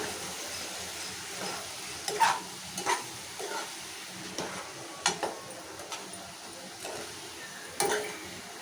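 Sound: stirring ridge gourd curry in a pan

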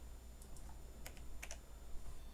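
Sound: typing on a computer keyboard

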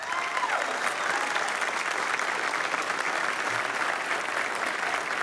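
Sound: audience applause in church

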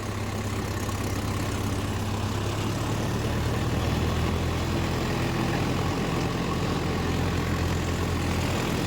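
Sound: Mahindra Yuvo Tech+ 585 tractor engine pulling a rotavator

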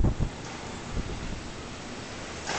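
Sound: strong hurricane wind gusting during Hurricane Ike

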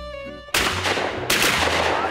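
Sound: shotgun fire while upland game bird hunting

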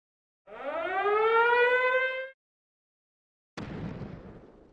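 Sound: mortar fire in Valkyria Chronicles video game

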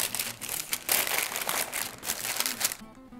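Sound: plastic storage bag crinkling

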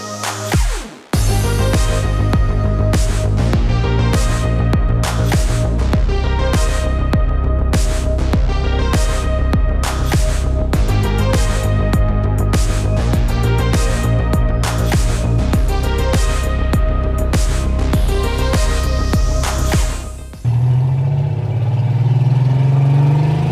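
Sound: Porsche 911 RWB car driving, engine running

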